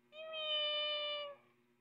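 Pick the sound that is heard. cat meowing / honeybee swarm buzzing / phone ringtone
cat meowing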